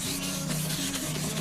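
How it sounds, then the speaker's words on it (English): Wet sanding on the sprayed finish of a Martin acoustic guitar neck, a close, steady rubbing swish with quick back-and-forth strokes over a faint low hum. "Now I'm wet sanding it now."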